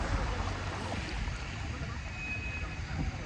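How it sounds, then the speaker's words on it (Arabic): Red Sea waves wash onto a stony beach at Hurghada in a steady, broadband rush mixed with wind, continuous and fairly distant throughout. "تسمعون صوت البحر. أحلى شيء."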